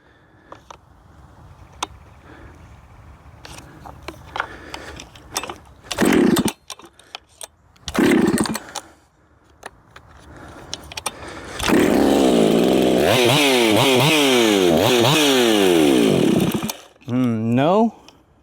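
A ported Jonsered 670 Champ chainsaw, checked for a possible air leak, sputters briefly, then roars loud and close, revving up and down unevenly before a short final burst. Quiet clicks and handling noises come first.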